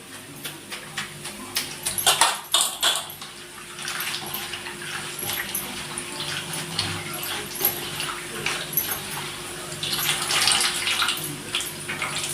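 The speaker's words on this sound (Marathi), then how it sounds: "भाजीत पाणी टाकलं होतं मी धुवासाठी" Vegetables are washed in a vessel of water, with close, intermittent sloshing and splashing that goes on throughout and grows busier toward the end.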